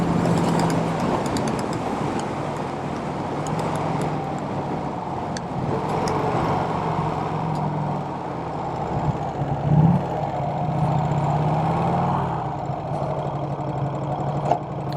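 Vintage Vincent Rapide motorcycle running steadily on a rural road ride in Iowa, a continuous low engine drone with mild roughness and wind noise, close and fairly loud throughout with no talk.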